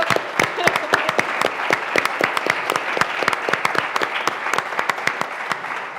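Scattered hand clapping from a small audience at a tech company event, honouring the woman who organised it; sharp distinct claps rise and fall steadily, close and lively, with no voices over them.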